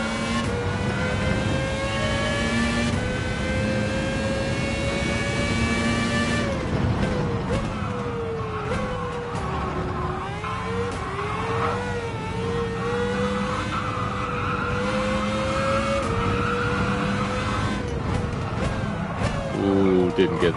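A De Tomaso racing around Monza in Gran Turismo 7 keeps up a loud engine whine that rises and falls through gear changes and corners, with a person talking over it throughout.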